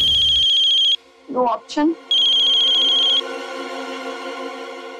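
A phone ringtone rings loudly in a steady electronic trill, pauses while someone briefly speaks, then resumes and carries on to the end.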